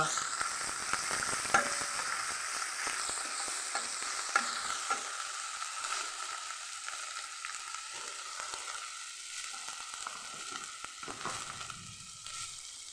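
Ginger paste sizzling and frying in a pan, with a steady bright hiss and repeated scraping stirs that are loud at first and then settle into a softer, continuous crackle, with no talking.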